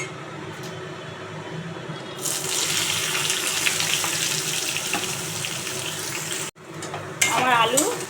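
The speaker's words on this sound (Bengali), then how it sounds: "আমার আলু ভাজা হয়ে গিয়েছে" Sliced potatoes frying in hot oil seasoned with black cumin (kalo jeera), a steady close sizzle that jumps louder after about two seconds and continues with a brief drop near the end.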